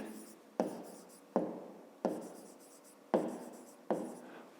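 Pen strokes writing out a math answer, heard as a series of close, scratchy bursts, each starting sharply and trailing off, about five in all with brief pauses between.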